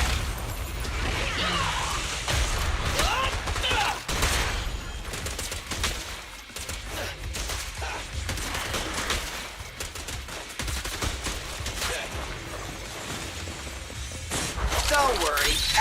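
Gunfire in the video game Zenless Zone Zero, rendered as a dense, continuous barrage of shots and shattering impacts, with character voices speaking over the combat.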